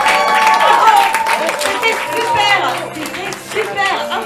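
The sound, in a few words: audience applause and clapping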